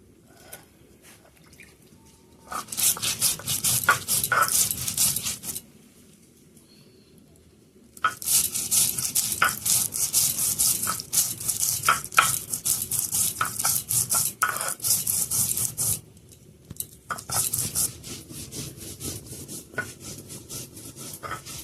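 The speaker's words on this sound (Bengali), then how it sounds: "এটা মশলাগুলো বেটে নি, জিরে, ধনে আর আদা" Cumin, coriander and ginger are ground into a spice paste by hand, giving bursts of rough, rhythmic rubbing and scraping that start and stop between short quiet pauses, close and fairly loud.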